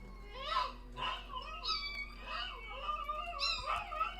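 A Chihuahua howls in a series of rising and falling wavering cries, several drawn-out howls in a row, close by and fairly quiet, imitating a husky.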